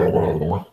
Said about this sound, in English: The noises that dog makes.